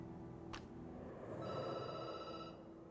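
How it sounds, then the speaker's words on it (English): A telephone ringing in the detective video game Night Call: a faint electronic ring in bursts over a low ambient hum, with a brief chime at the start and no voices. "The phone rings and you jump."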